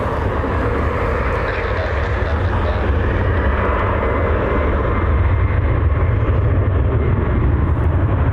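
A Southwest airliner taking off for Phoenix, its jet engines giving a loud, steady roar that builds slightly, with faint talking underneath.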